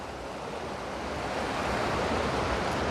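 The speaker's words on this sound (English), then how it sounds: "But I just love how the water comes down here and just rips around the corner." Creek water rushing steadily and loudly around a bend below a waterfall, a dense continuous roar that swells slightly and carries no voices.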